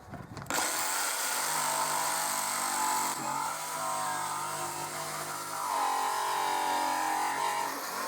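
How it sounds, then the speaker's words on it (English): A jigsaw buzzes steadily through pallet wood after starting up, cutting out a circle, its pitch shifting slightly as the cut curves, loud and close. "get my jigsaw blade inside and cut out the circle"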